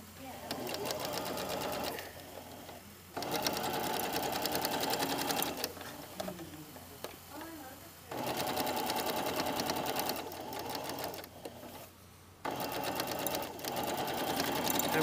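Sewing machine stay-stitching a jacket undercollar, running in loud, close bursts of rapid stitching separated by brief pauses, with talk heard between runs.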